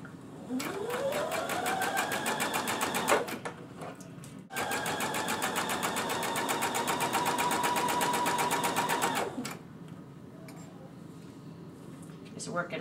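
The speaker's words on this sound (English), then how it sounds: "We've completely straight stitched everything that was pinned." Sewing machine running in long steady straight-stitch bursts through chiffon fabric along a pinned seam, fast even needle rhythm close by, with a short pause midway and faint background afterward.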